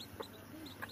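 Poultry on a farm raising fowl, with a few faint, short clucks and chirps scattered across a quiet, distant background, heard alone without talk.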